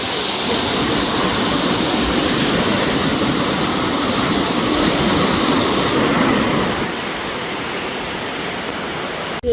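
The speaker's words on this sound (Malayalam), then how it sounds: "ഇത്രയൊക്കെ മനോഹരമായിട്ടുള്ള വാട്ടർഫാൾസ് ഉണ്ടായിരുന്നു." Broad, steady roar of a waterfall at Kodaikanal, loud and continuous with no talk, easing slightly toward the end.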